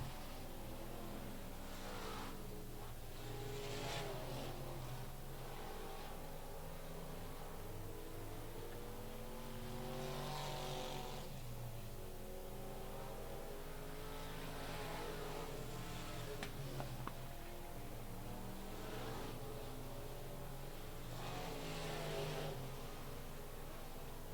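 Race cars run a heat race at Rocket Raceway Park, engines droning and swelling as the pack laps the track, a continuous distant rumble rising and falling with each pass, no voices in the foreground.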